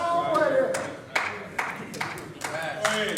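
Scattered individual claps from a small part of an audience ring out sharply at irregular intervals under a voice, which keeps speaking throughout.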